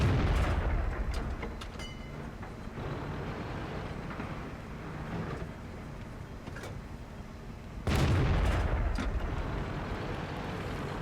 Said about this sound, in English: And the artillery misses.